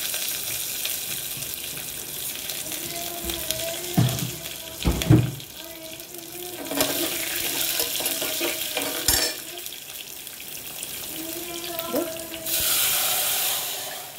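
Water pours and hisses into a hot pan of tempered spices for masala semiya, a steady rushing splash with sizzling bursts and faint voices.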